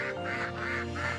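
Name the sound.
duck quacking on the Thames and Severn canal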